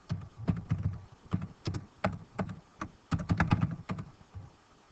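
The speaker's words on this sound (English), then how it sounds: "So I just go back in and manually type that in." Someone types manually on a computer keyboard, close and fairly quiet, with irregular bursts of clicking keystrokes separated by short pauses.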